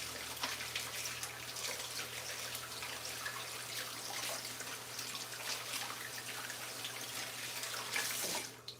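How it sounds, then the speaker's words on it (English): Tap water runs steadily into a kitchen sink as hands are washed beneath it, a continuous close splashing hiss that lasts throughout with a slight surge near the end. "Wash your hands."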